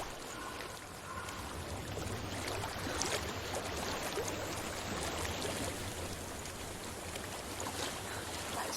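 Flowing water in the video game Hellblade: Senua's Sacrifice: a steady, full rush of a stream with a constant hiss and a low churn, loud and unbroken throughout, with no voices.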